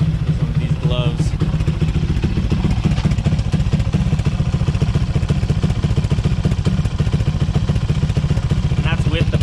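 A Grom clone motorcycle engine idles steadily and close, a continuous rapid low putter holding an even rhythm throughout.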